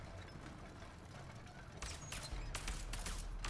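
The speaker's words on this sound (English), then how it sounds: "He's just shooting that thing." Gunfire in the co-op video game A Way Out, a burst of broadband shots arriving in the second half over a steady game background, moderately loud with no talk.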